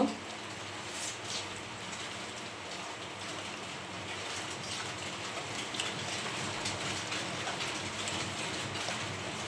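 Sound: heavy rain

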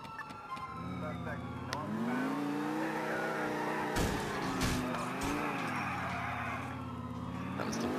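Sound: car skidding through a sharp turn in LCPD:FR video game

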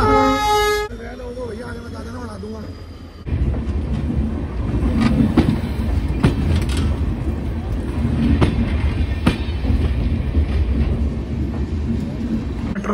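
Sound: train passing by

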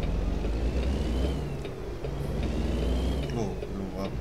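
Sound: truck approaching in American Truck Simulator video game

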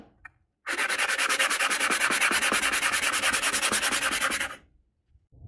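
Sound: sanding and smoothing mountain bike parts

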